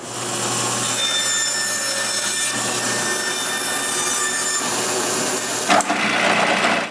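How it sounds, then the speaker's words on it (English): Power saw roughly cutting wooden circles for washers in a workshop, a loud continuous whining cut with shifting pitch, ending with a brief clunk as the blade runs down. "I begin by roughly cutting some wooden circles"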